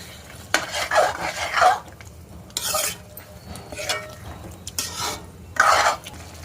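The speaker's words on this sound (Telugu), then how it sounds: "ఒకసారి అన్నీ కలుపుకుందాం" Gongura chicken curry stirred in a pan, several bursts of spoon scraping and clattering against metal over a faint sizzle, close and without talking.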